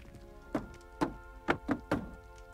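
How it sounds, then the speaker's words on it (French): Barrels tapped in a Hogwarts Legacy rhythm puzzle: five hollow wooden thunks, four evenly spaced and one quick extra before the last, each crisp and close over a faint background hum. "Il faut tapoter ce tonneau"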